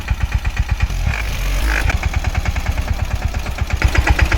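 In a peanut field, a tractor engine idles up close with a steady, rapid thumping pulse that briefly smooths into a drone before the knocking beat returns.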